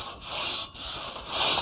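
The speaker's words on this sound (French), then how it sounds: "C'est vraiment sympa d'avoir quelqu'un de l'autre côté de la scie." A two-person crosscut saw is pulled back and forth through wood, giving steady rasping strokes with brief pauses between them. The sawing is close and loud, and no one speaks.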